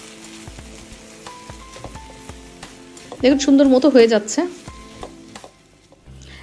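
Chicken fries in a pan over high heat, giving a continuous sizzling crackle in the background while a person talks briefly in the middle.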